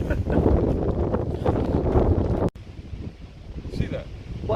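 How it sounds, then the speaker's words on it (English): Strong wind buffeting the microphone at a carp fishing lake, a loud, gusty roar that drops off sharply midway and then continues softer, with a voice audible. "Oh God, the wind's still howling anything like you wouldn't believe."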